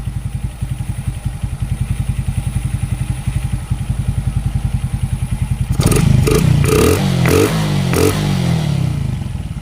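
A Rider J 115 Fi motorcycle idles just after starting, with its air cleaner removed: a loud, close, steady putter of rapid even firing pulses, later joined by metallic clatter and knocking.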